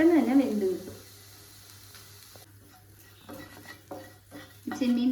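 Prawns dry-roast in a pan without oil for homemade noodles: soft sizzling and scraping stir strokes come in short bursts, quiet and close, while a voice talks at the start and end.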